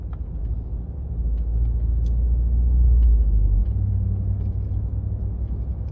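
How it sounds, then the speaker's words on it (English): Road traffic rumbles past nearby, with cars easing off and slowing down as a low, steady roar that swells and fades over several seconds. "Look how these cars slow down."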